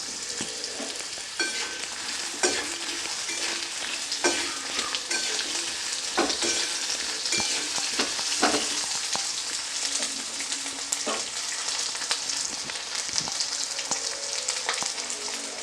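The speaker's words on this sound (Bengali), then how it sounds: "তেলটা গরম হয়ে গেছে, আমি এর মধ্যে দিয়ে দেব একটা আলুকে আমি সরু করে কেটে রেখেছিলাম" Thinly sliced potato fries in hot oil with a loud, continuous crackling sizzle, peppered with sharp pops and occasional stirring scrapes, close up and sustained without speech.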